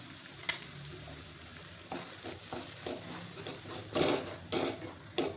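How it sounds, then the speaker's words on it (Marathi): Wheat flour roasts with ginger-garlic paste in a pan, a soft low sizzle broken by irregular stirring scrapes and a few louder clinks of spoon against metal. "तर पीठ छान खमंग भाजलेलं आहे"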